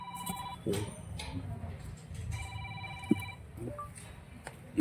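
A telephone rings twice in brief electronic trills, fairly faint, over a murmur of background noise and distant voices.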